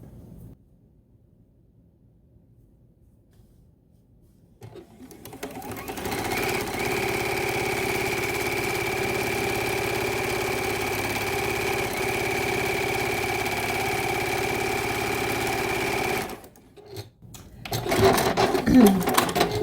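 Sewing machine stitching quilt sashing onto a row, one continuous steady run of about ten seconds, close and fairly loud, starting after a quiet stretch and stopping before some handling noise.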